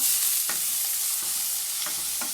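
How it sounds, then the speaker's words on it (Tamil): Onions go into a hot tempering of spices and are fried and stirred for a green chicken curry, with a steady bright sizzle broken by a few soft scraping strokes of the spoon, close and without speech. "இப்போது இது நல்லா வதங்கினதும் இதில் நம்ம எடுத்து வச்சுருக்க வெங்காயத்தை ஆட் பண்ணிக்கோங்க"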